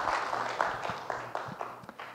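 Applause from an audience at a multicultural mission conference, a scatter of claps and taps that thins out and fades over a couple of seconds, with faint speech in the background.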